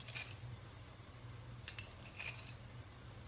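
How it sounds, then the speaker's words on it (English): A metal spoon clinks against a pot a few times while sugar goes into chili on a home stove, small bright scrapes and taps over a low steady hum. "So let me get the sugar in there. 3 teaspoons."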